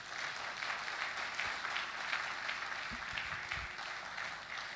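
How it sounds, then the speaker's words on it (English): A conference opening ceremony audience gives sustained applause, a dense, even patter of many hands clapping that continues throughout at moderate distance, fairly quiet overall. "Please keep the applause coming for Osai Gihon, President, Director General,"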